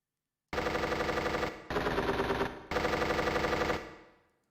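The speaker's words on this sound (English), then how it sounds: "And let's see gunshot." Rapid automatic gunfire from a free library sound effect, three sustained bursts of fast, even shots, the last trailing off into a decaying echo, with no voices.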